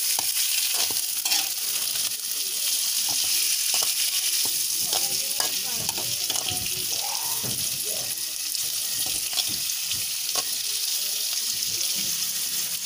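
Bakasi eels frying in a pan and being stirred, giving a steady loud sizzle broken by repeated scraping clicks of the utensil, with no talking.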